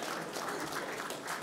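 An audience applauds at a car of the year awards ceremony in Geneva, a dense, even wash of clapping heard from a distance, continuous and moderately faint with no voices over it.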